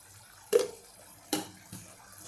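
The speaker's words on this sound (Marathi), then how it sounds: "थोडंसं पाणी मी वाढवते" Three quiet, short splashes of water poured into a pot of cooked vegetables with tamarind and jaggery, spaced apart, with near silence between them.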